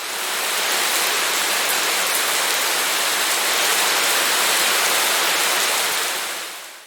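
Torrential rain pours down in a steady, dense wash of hiss, loud and unbroken throughout with no voices.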